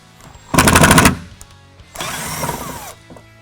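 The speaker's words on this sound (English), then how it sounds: "we'll just grab a little power tool" A power tool driving a thread tap whirs in two short bursts, a rough rattling spin, then a pause, then a smoother, longer whir, close by and loud.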